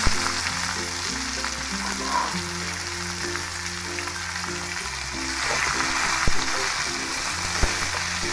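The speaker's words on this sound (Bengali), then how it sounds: "লবণ দিয়ে সিদ্ধ করে নিয়ে তেলে মরিচ পেঁয়াজ দিয়ে বাগার দিলাম।" Malabar spinach and boiled potato frying in oil with chili and onion, a steady hiss of sizzling beneath a melodic background tune.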